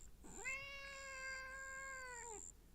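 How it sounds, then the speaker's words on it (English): A cat gives one long, drawn-out meow lasting a couple of seconds, close and clear against a faint background hum, with a steady high electronic whine running underneath. "What are you meowing about?"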